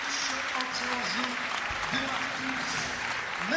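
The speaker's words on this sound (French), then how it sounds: "Sous vos applaudissements, s'il vous plaît, Avdalovic, entrée en jeu," A crowd in a basketball arena applauds during a Euroleague game, Cholet Basket against FC Barcelona, a steady dense wash of clapping under an announcer's voice.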